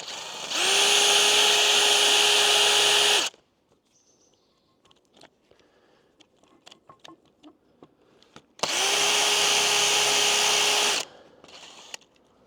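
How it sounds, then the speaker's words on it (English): A drill bit bores out a stubborn metal bolt in an antique arbor: two loud, steady whining bursts of drilling separated by a stretch of scraping and clicking, close up with no talking. "It's a really good drill bit."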